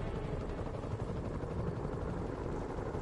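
Helicopter rotor noise in a Spider-Man video game, a steady, dense chopping whir that fills the clip at a constant level with no talk over it.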